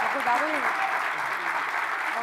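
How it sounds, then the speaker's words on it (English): A conference audience applauds after a presentation, a steady but fairly soft wash of clapping while a voice speaks over it. "Another round of applause"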